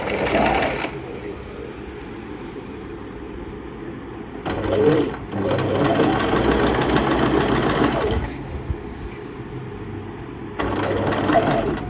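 A Singer Fashion Maker 1412 sewing machine runs in steady bursts of close motorized stitching, pausing briefly between runs, with a person talking over the whirring.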